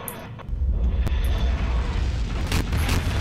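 A Garry's Mod explosion erupts in a deep, loud boom that swells suddenly and rolls on as a sustained low rumble with crackling debris, no voices over it.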